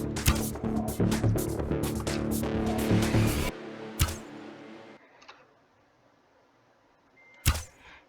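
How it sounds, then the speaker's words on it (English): Rapid bursts of bow shots fired one after another in a Minecraft Bedwars match, a dense stream of sharp twangs and hits for several seconds, then a quieter stretch with a couple of isolated clicks. "I'm going to like bow spam them."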